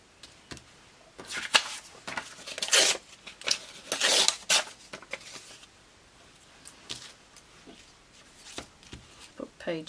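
Someone tears the edge off a book page while making paper tags. Several ripping and rustling bursts of paper come close and fairly loud in the first half, then thin out into lighter handling noises.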